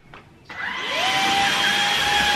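A household vacuum cleaner switches on after a brief pause and revs up to a loud, steady, close whine that holds without a break.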